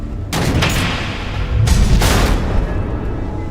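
Missiles explode in Batman: The Enemy Within as a dense, rumbling volley of blasts, two sharper bursts cutting through the rolling low roar, close and loud with no speech over it.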